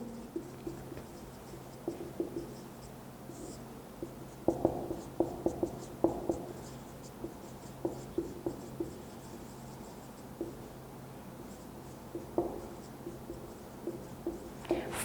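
Chalk or marker tapping and scratching on a board during a thermal physics lecture: scattered faint ticks and short strokes in irregular clusters over a steady low hum, no voice.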